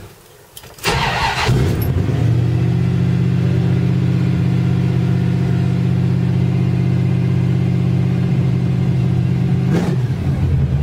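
A 1973 Chevy stepside shortbox pickup engine cranks briefly, catches and settles into a loud, steady idle close by, with a slight bump in revs near the end.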